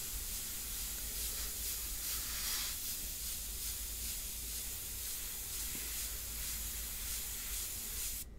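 Airbrush spraying India ink onto paper for a portrait, giving a steady, close, continuous breathy hiss that holds evenly for about eight seconds and cuts off abruptly at the end.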